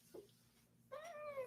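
House cat meowing indoors, a soft short chirp followed by a longer, louder meow, close but quiet over a faint steady hum.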